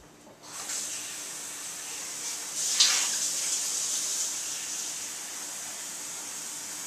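Water pours steadily into a blender holding almonds while almond milk is being made, a continuous close splashing hiss with no talk.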